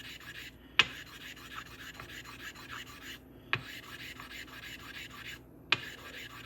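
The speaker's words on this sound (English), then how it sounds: "This rubbing one stone onto another, I think you get the idea." One sharpening stone is rubbed back and forth against another to raise a slurry, a steady close gritty scraping with three sharp clicks spaced a few seconds apart.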